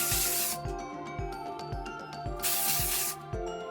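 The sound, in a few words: misting Kenra Volume Spray 25 hairspray on hair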